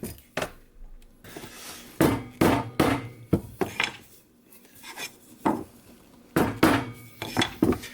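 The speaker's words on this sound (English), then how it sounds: "going to use a piece of wood again to get uniform pressure as I hit so that it doesn't break" A bow tie joint is hammered into a wooden charcuterie board through a wood block, giving sharp, loud knocks that come singly and in short bursts with quiet gaps between them.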